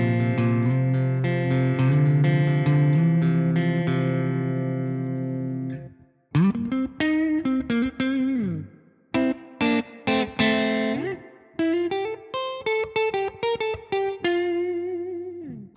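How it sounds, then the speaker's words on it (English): Electric guitar with the middle pickup and push-pull engaged, run through a Bogren BDM 410 amp plugin modeled on a Marshall JVM410H, with reverb; a sustained chord rings out, then choppy picked notes and chords with decaying tails. "Go to my middle pickup with the push-pull engage. Get some of that reverb happening."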